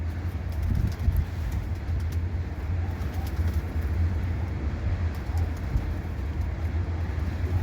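Pigeons coo low and steady while others flap about, close by, over a constant rumbling background that may include traffic.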